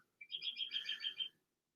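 A bird outside a window sings a clear, fairly faint phrase of about eight rapid repeated chirping notes lasting around a second, alone against a quiet background.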